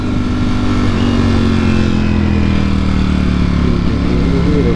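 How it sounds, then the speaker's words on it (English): A Nissan GT-R car driving past on a street, its engine a loud, steady roar that rises slightly in pitch as it passes close by. "I'm pretty sure it's a GTR"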